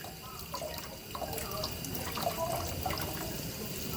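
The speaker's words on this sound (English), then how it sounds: "I will rinse out the denture under the running water" Lower denture rinsed under a running tap, a steady moderate stream of water with small splashes and drips as it hits the denture and basin.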